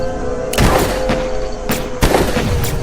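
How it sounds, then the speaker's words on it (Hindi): Three loud gunshot-like blasts with booming low thuds from a Hindi horror story, spaced unevenly over a few seconds, against a steady background tone. "निशाना साध कर गोली चलाता है"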